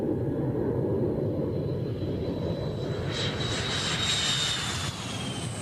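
A MiG-29 jet on takeoff, its engines giving a loud, steady roar with a deep rumble and a thin high whine rising over it, continuous throughout.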